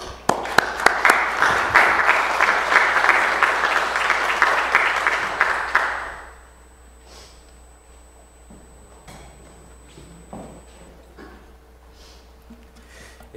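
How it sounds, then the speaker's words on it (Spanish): Strong applause from an audience at a criminal law workshop session, greeting a professor as he takes the floor; dense, loud clapping for about six seconds, then it cuts off into quiet room tone with faint shuffling. "Lo vamos a recibir con un fuerte aplauso"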